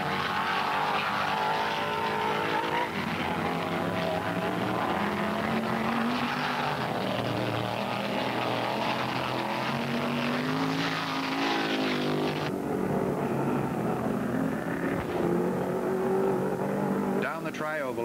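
Stock cars, including a Mustang, Gremlin and Camaro, racing on the Daytona road course in 1974: a continuous loud, droning engine roar with shifting pitch throughout, heard from a distance, with a commentator talking over it.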